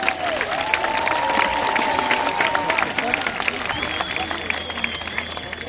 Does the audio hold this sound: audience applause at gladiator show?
yes